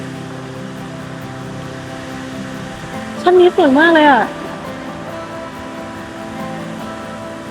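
A waterfall pours as steady broadband rushing water close by, with someone speaking briefly in the middle.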